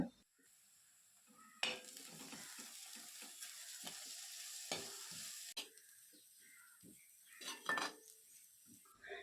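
Chilli powder, turmeric and garam masala roasting in a pan for tomato uppumavu, a low steady sizzle broken by several sharp scraping stirs of a spoon against the pan, with no talking.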